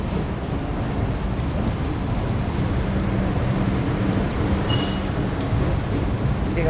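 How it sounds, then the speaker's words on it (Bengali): Steady heavy early-morning rain pours with a deep, continuous thunder rumble underneath, a dense wash of sound that holds evenly the whole time. "এখানে বেশ ভালো বৃষ্টি পড়ছে সকালবেলা"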